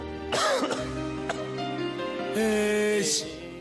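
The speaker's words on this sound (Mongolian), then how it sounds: "Ханиалгасаар л байна уу чи минь?" A single person coughs and clears their throat in two rough bursts, close and fairly faint, over a steady musical tone in the background.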